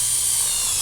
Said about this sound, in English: I just like to use a drill bit to go through the timber first.